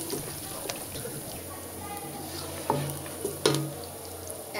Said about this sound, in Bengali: পেঁয়াজটা আমি কালার করে ভাজবো না, হালকা একটু ভেজে নেব